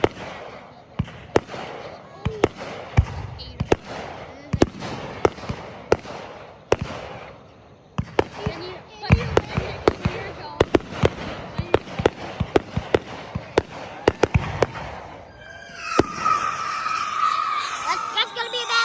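Fourth of July fireworks burst in a fast irregular series of sharp bangs and crackles, some close and loud, with people talking and reacting between the blasts and a crackling shower near the end.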